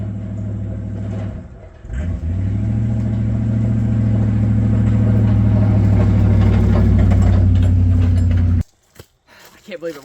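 A Land Rover engine runs steadily at close range with a loud low rumble, a brief dip near the start, then cuts off abruptly near the end, leaving faint scattered sounds.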